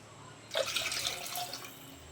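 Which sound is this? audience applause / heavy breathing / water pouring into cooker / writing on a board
water pouring into cooker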